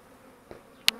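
Honeybees buzz faintly in an opened beehive, with a soft hum and two brief sharper bursts close by, the second louder.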